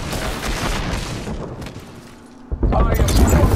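Airstrike explosions in Apex Legends, a rumbling barrage of booms that fades into a brief lull before a sharp, loud blast erupts and continues heavily; a voice talks over the first part.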